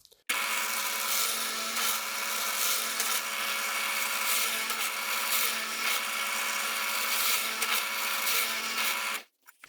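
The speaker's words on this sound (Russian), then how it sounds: "Закончил со сверлением." A steady, continuous high-pitched whir of a drill boring into wood, running unbroken for several seconds before cutting off abruptly.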